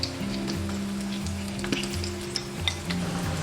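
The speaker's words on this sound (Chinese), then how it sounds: "然后继续再炸至最后这3个" Starch-coated hairtail fish deep-frying in oil over medium-low heat, a steady close sizzle with crackling bubbles and a few sharper pops throughout.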